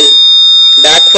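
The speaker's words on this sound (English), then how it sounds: "back fallen and the buzzer should be on" A buzzer alarm on an accelerometer-based fall monitoring system sounds a loud, steady high-pitched electronic tone nearly the whole time, with a brief burst of noise near the end.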